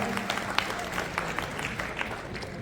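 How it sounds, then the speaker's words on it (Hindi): Audience applause welcoming a speaker at a Vita milk plant farmers' seminar in Sirsa, steady dense clapping from a crowd throughout, with faint voices underneath. "जोरदार तालियों से सर का स्वागत"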